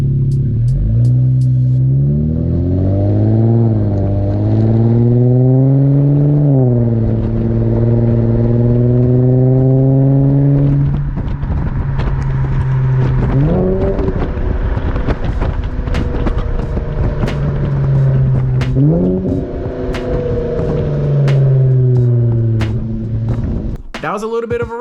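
Infiniti Q50 Sport accelerating, its exhaust captured from outside the car: a deep engine drone climbing through several gear pulls with brief shift dips between, steady and loud, with wind rush and clatter building over time.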